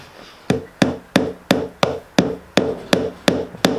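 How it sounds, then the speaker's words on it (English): Steady hammer blows drive a wooden dowel into wood, about ten sharp knocks at an even pace, close and loud with no talking. "And then hit it in with the hammer."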